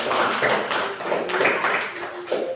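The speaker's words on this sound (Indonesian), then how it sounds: "Beri tepuk tangan untuk Adik Kansil." A classroom of students claps for a classmate, a brisk uneven patter of many hands at close range that holds steady before tailing off.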